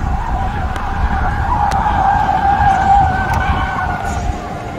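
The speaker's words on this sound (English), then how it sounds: "Fucking Lucid Air doing donuts" A Lucid Air electric car spins donuts, its tires skidding and squealing in a loud continuous screech that wavers in pitch, with broadband rumble and crowd noise underneath.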